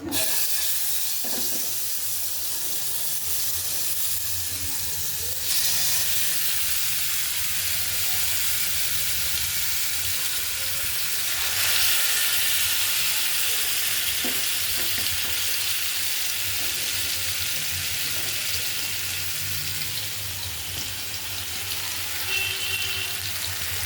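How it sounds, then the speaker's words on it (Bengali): Marinated tandoori chicken pieces fry in a frying pan with a loud, steady, hissing sizzle that holds for the whole stretch, punctuated by a few faint stirring scrapes. "এখন এগুলা একটু ভাজে নিব।"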